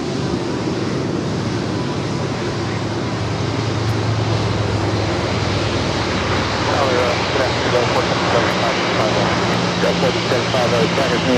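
Aircraft turning right onto taxiway Lima at LAX, a steady rumbling engine hum at moderate distance under continuous talk.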